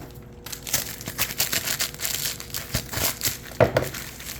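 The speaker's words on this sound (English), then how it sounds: "So let me cut these open." Mail packages holding graded trading cards are cut and pulled open nearby, producing a run of crinkling, rustling plastic and paper with short tearing bursts, uneven in rhythm and without talk.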